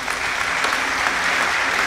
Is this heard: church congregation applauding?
yes